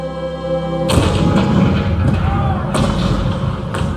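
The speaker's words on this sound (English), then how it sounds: "The cannon spoke for war." A Civil War cannon opens fire at Fort Sumter: a deep, loud boom bursts in and rolls on as sustained rumbling thunder, with further blasts at intervals over a low background bed.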